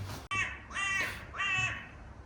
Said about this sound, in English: there he is, look, a crow. I think it's a crow or rook, something like that.